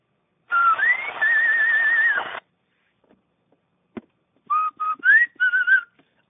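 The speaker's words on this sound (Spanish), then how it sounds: "Ahí escuché el silbidito ese" Whistling comes over an AM CB radio channel, a long warbling whistle with a rising then held pitch, then after a silent gap several shorter whistled bursts, band-limited and clear with no talking.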